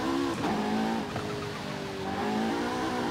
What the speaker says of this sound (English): Acceleration out of corner.